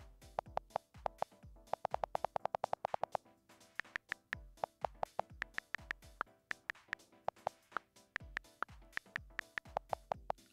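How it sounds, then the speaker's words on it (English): Keyboard clicks on an iOS 10 beta 4 phone as the delete, space and return keys are pressed, a quick run of sharp, faint ticks in clusters and irregular rhythm, with slightly different tones between keys and no talking. "listen what happens when I press the delete key, or the space key, or the return key."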